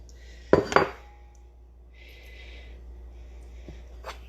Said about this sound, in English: we're going to remove our yolk, put that into a bowl.